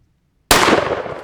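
A Stoeger Double Defense side-by-side 12 gauge shotgun fires once at a Barbasol can outdoors, one sudden loud blast after silence with a short ringing tail.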